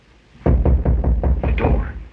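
Six knocks on a door, then a softer seventh, in an even rhythm, close and loud, heard alone.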